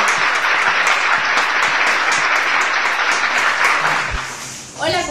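Loud, dense applause and clapping from a university show audience greeting a costumed guest playing Sigmund Freud, sustained for about four seconds before fading as a voice begins to speak.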